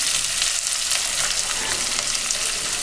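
Curry leaves, green chilies, ginger and onion sauté in hot oil for wheat upma, producing a loud, unbroken hiss of frying with faint stirring texture and no speech.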